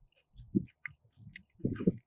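Crunchy backpacking meal chewed close up, short bursts of crisp munching in two clusters with brief pauses between bites, no talking.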